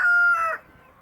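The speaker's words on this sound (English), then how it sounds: "who's a little jealous of other chickens that come too close to me" A single brief, loud, close rooster call with a sustained tonal note, cut off after about half a second.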